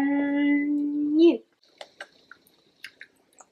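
Crunchy salted roasted pumpkin seeds being chewed: a few sharp, crisp crunches spaced irregularly and close up, following a brief stretch of talking.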